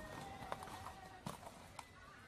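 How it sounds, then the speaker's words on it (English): A horse walks through a busy market in a storybook scene, with a few distinct hoof clip-clops standing out over a steady background murmur. "Mulan walks through the market with her new horse"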